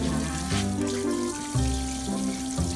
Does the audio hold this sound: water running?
yes